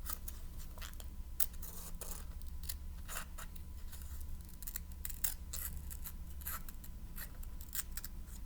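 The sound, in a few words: cutting along lines with scissors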